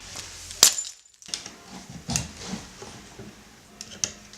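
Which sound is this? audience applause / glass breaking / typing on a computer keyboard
glass breaking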